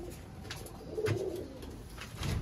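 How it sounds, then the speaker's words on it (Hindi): Young pigeons of a flying breed coo softly in low, rounded bursts, two short coos spaced apart over faint background noise. "ये हमारे सेबे वाले कबूतर के, चलो उड़ने वाले बच्चे हैं"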